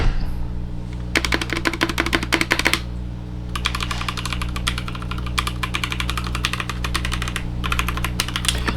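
Fast keystrokes come in bursts separated by short pauses on a plasticky ZIFRIEND AG68 mechanical keyboard with no foam. The clacking is crisp and close over a constant low hum.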